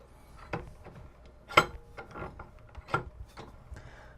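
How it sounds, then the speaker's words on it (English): Jeep Wrangler TJ front driveshaft being worked free of a bench vise, giving a few scraping, rubbing metal knocks and clunks at close range with no talk. "I gotta take it back out of the vise without dropping the whole thing."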